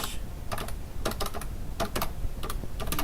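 A title is typed on a computer keyboard, heard as quick clusters of crisp key clicks in short bursts with brief gaps, close by over a low steady background hum, with no talking.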